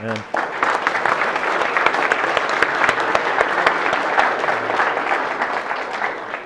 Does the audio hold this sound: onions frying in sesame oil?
no